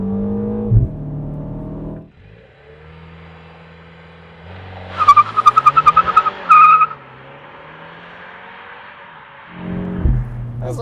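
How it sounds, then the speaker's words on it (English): A 2025 Mini Cooper JCW with front-wheel drive makes a launch control start. The engine hums at idle, then winds up through rising revs with a burst of pulsing tire squeal and chirps before settling back, heard from inside the car. "The all-new 2025 Mini Cooper JCW. With launch control!"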